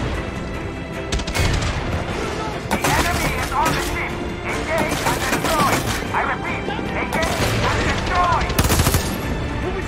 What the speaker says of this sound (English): This gun is amazing.